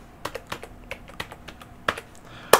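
A computer keyboard is typed on in short, uneven bursts of close, crisp key clicks, with one louder tap at the end and no one speaking.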